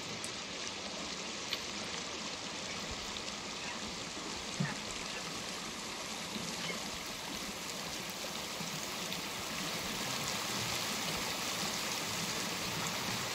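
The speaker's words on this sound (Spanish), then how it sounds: "Se escucha fuerte el nivel del agua" Water of a stream on Juan Fernández flowing loudly in a continuous, even rush, close by and alone, with no voices over it.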